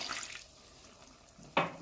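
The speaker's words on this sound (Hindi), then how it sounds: "अब हम इसमें आधा कप पानी ऐड करेंगे।" Quiet kitchen setting, then a sudden short splash as half a cup of water is poured onto roasted chickpeas for chana kaleji in a pan, a brief bright gush that fades quickly.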